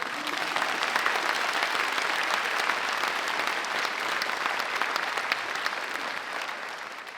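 Steady applause from a concert audience for dancers of a dance club's tenth-anniversary show in Veliko Tarnovo, dense clapping held evenly at moderate distance, slightly fading at the end.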